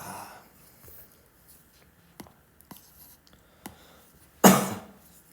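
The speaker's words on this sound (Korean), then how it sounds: "제가 기침을 해가지고" A single abrupt cough from a teacher in a quiet indoor room, loud and close, following a few faint clicks and small rustling noises.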